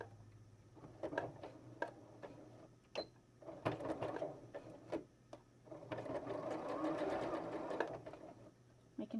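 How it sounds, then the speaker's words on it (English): A sewing machine running a quick straight stitch on a stretchy headband, soft and close, in short bursts broken by clicks and fabric handling, with a longer steady run near the end. "I'm just going to do a quick little straight stitch here to get this closed as much as I can"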